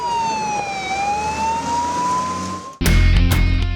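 Fire engine sirens wail at a blaze in a market packed with mobile phone shops, a steady rising and falling tone that cuts abruptly into a louder, denser burst of siren and traffic noise near the end.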